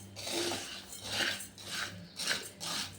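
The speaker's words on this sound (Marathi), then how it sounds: "छान परतवत आपला साबुदाणा आपण भाजून घ्यायचा आहे" Sago pearls being stirred and roasted dry in a heavy-bottomed kadhai over low heat, giving repeated soft rasping scrapes of a spatula in slow, rhythmic strokes, close and fairly quiet.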